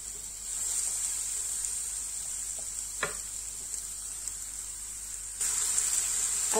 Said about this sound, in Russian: На растительном масле обжариваем лучок.